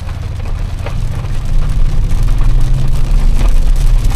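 A BMW M760Li V12 sedan with xDrive rolls through a U-turn, its engine a low, steady hum beneath broad road and tyre noise that swells slightly partway through, heard from inside the cabin with no talk.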